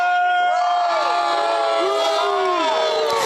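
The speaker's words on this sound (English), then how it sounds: "crowd not happy with that one." Football crowd at a varsity game between the Pinnacle Pioneers and Liberty Lions, a loud sustained roar of voices reacting unhappily to an official's call, with a steady tonal layer running beneath the din throughout.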